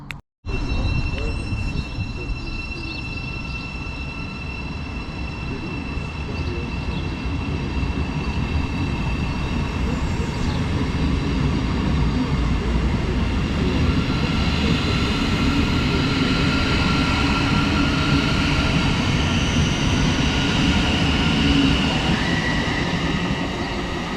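A Class 700 passenger train rumbles steadily and builds as it pulls away from a station, with continuous rail noise and a faint high whine throughout, no voices.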